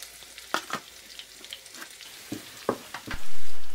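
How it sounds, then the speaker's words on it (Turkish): Flour and garlic toasting in a pan over a medium flame, with a utensil scraping and stirring in scattered sharp strokes over a soft, steady background. "Sürekli karıştırarak unumuzu kavuruyoruz."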